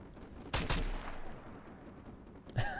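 Gunfire in Call of Duty MW2 gameplay: a loud burst of shots followed by a decaying rumble, then another sharp report near the end.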